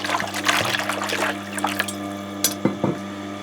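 A Tormek sharpener's water stone soaking up water from its trough, heard as a faint trickle with scattered small gurgles and drips over a steady machine hum.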